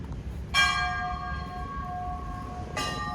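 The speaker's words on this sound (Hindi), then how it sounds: "और ये हमें मंदिर की घंटी सुनाई दी।" A temple bell rings at Surya Kund in Ayodhya, two clear struck tones with a long, shimmering ring between them, heard at moderate distance over outdoor background noise.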